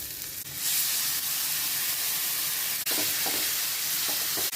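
Tomatoes with pepper, garam masala, coriander, chilli and turmeric powders frying in a pan for a spicy egg omelet, a steady close sizzle and hiss with a few soft stirring scrapes, no talking.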